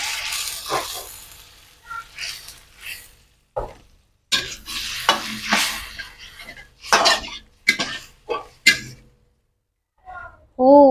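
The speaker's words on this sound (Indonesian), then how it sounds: "kita masukkan air ya teman-teman" Water poured into a hot pan of spice paste for Acehnese noodle seasoning, a burst of sizzling followed by scraping stirs and clinks in uneven bursts, close and loud.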